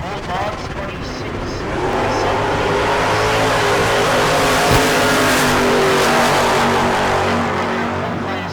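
Pro Mod drag race cars at a heads-up event, launching with a loud engine roar that swells and holds, heard under a commentator's continuous voice.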